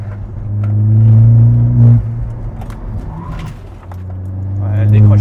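An Opel Corsa OPC engine accelerates with a loud, steady droning rumble whose pitch holds, dips briefly, then climbs again toward the end as the revs rise.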